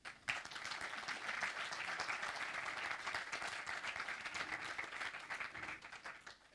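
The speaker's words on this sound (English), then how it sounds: "Shall we give a nice round of applause?" An audience at a University of California, Davis World Food Center forum applauds steadily for several seconds, dense clapping filling the room at a moderate level before tapering slightly at the end.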